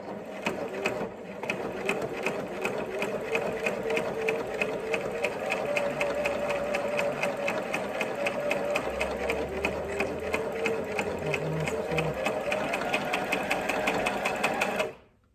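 A sewing machine stitches the pleats of a fabric face mask in one steady, fast, continuous run of close, even needle strikes lasting about fifteen seconds, then stops abruptly.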